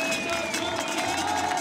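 Home crowd at a wakeboard big air final in Munich, a steady, dense murmur of spectators filling the space without any break or distinct cheer.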